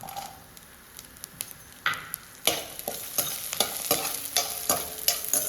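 Cumin and garlic sizzle in hot oil for bitter gourd chutney, frying steadily while a spoon scrapes and stirs the pan in quick, irregular strokes that grow busier and louder partway through.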